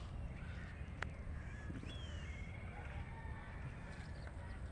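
A large-billed crow by a river gives a few harsh caws, faint and somewhat distant over a steady outdoor background hum.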